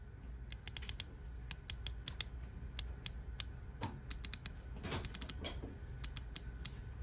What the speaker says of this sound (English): So you're going to be looking at 48 click GMT bezel.